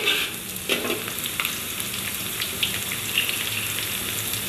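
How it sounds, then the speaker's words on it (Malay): Shallots and sofrito fry in a pan with a steady, close sizzle, broken by scraping stirs and small crackles throughout. "Setelah bawang merahnya layu, baru kita masukkan soprei ya kakak dan bunda."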